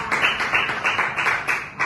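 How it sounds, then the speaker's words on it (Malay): Short burst of clapping from a small group of school pupils in a Year 4 Malay-language class, praising a classmate; quick, irregular claps at moderate level, close by, with no talk over them. "Bagi tepukan kepada Izzah."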